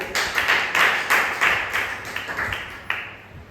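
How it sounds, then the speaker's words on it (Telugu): An audience at a church gathering claps: a quick, rhythmic run of a dozen or so close hand claps that gradually fades. "చెప్పిన వారికి ఒకసారి బిగ్ క్లాప్"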